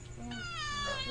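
A pet Siamese cat, unwell, gives a clear, drawn-out meow close by, with a short earlier cry, over a steady low background hum.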